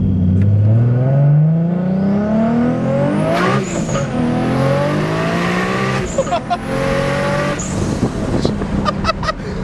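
A yellow Nissan Skyline GTR accelerates hard from close by, its engine climbing steadily in pitch through the gears with sharp shift breaks, pops and brief tire chirps, and excited voices appear near the end.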